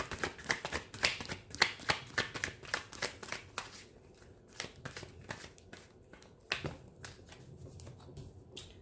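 Tarot cards shuffled by hand, close and crisp: a quick run of riffling, snapping bursts for about four seconds, then sparser, softer card taps and slides with no talking.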